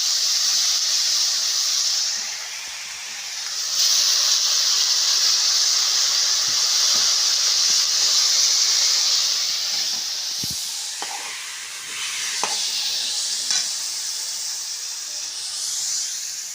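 Washed cabbage hits hot oil in a wok on a gas stove, a loud, steady steamy hiss that swells and fades with a few brief clicks and knocks.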